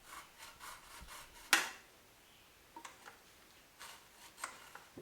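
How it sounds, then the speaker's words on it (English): A wooden-shafted arrow held in a DIY spinner end jig is slid back and forth against sandpaper, making faint, rhythmic scratchy rasps with one sharper knock in between and light scattered strokes afterward. "slide it against the sandpaper, make sure that stays in there"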